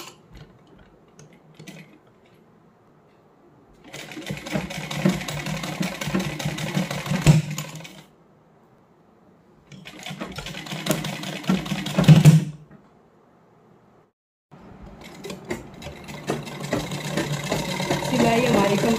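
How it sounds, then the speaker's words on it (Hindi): A sewing machine runs along the fitting seams of a salwar in three sustained bursts of rapid, rattling stitching, each rising in intensity, separated by brief quiet pauses. "अब इसके ऊपर से सिलाई लगाते जाएंगे, पूरी फिटिंग की सिलाई अपनी कंप्लीट कर लेंगे।"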